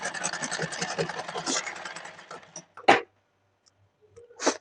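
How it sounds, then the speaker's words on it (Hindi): A sewing machine runs a double seam on a blouse with a fast, steady mechanical whir for about two and a half seconds, then stops. A couple of short clicks and bumps follow in near silence. "इस तरीके से डबल सिलाई लगा लीजिए।"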